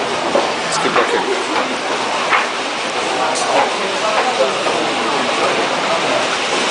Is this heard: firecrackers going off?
no